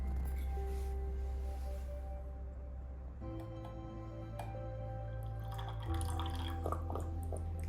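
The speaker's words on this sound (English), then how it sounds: "And we stir a little." Tap water with sodium carbonate being stirred in a flask gives a few faint liquid drips and light clinks over a steady low background hum, quiet and close.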